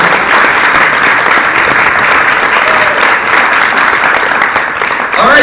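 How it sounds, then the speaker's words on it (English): An audience claps and cheers for a theme park president at a Six Flags Over Georgia presentation, with dense, steady applause filling the room for several seconds and continuing unbroken throughout. "let's give Dale a round of applause"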